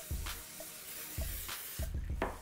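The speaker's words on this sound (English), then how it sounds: "Make sure you coat your pan with cooking spray." Cooking spray is sprayed onto a baking pan for mac and cheese in several short hissing bursts, close by, with soft handling knocks in between.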